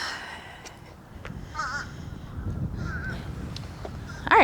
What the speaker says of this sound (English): These crows mean they're gonna ruin my walk.